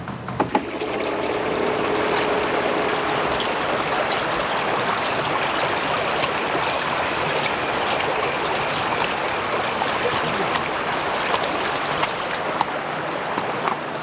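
A mountain torrent rushes in a steady, dense wash of water, close and continuous throughout, with no voices over it.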